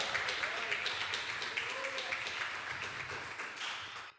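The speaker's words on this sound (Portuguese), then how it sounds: "Vamos aplaudir ao Senhor, minha gente" Church congregation clapping together, a run of sharp, rhythmic claps packed close and evenly paced, moderately loud and fading out at the end, with voices mixed in under the applause.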